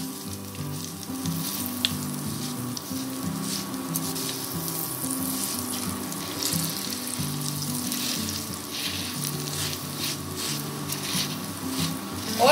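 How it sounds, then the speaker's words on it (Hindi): Poha frying in hot oil inside a metal strainer, a steady dense sizzle that runs continuously at even loudness with faint clinks near the end, no voices. "तो ये स्ट्रेनर में डाल के हम फ्राई करेंगे"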